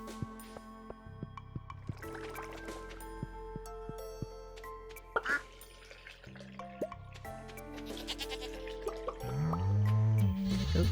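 A goat in the farming video game Stardew Valley bleats amid chiming game music and small dripping, liquid-like effects, with the cry rising louder near the end.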